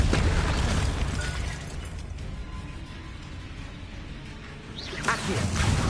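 A Confringo fire-spell blast in Hogwarts Legacy erupts as a loud burst that fades into a crackling, rumbling tail, then a second sharp impact flares up near the end.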